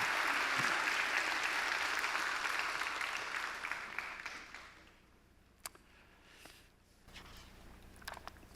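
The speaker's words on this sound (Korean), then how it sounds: "이 시간 큰 박수로 우리 함께 교수님 모시도록 하겠습니다" Dense, steady applause from a congregation at a Sunday church service, welcoming a guest pastor and professor to the pulpit; the clapping holds for about four seconds, then thins and fades to a quiet room with a few scattered noises.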